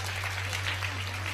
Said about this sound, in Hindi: ताली बजाओ सब लोग।